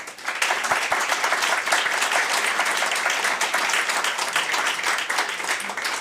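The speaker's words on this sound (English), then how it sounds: "I feel like a huge round of applause is definitely worthy." A panel audience gives a round of applause after a discussion on virtual production in indie film and games, continuous dense clapping from a sizable crowd, steady and moderately loud from start to finish.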